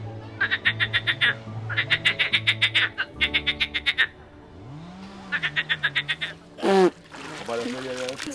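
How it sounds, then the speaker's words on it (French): Small green frogs croak outdoors on a nature trail, repeated bursts of rapid rattling calls with pauses between them, mixed with voices and a brief splashy noise. "Petite grenouille verte."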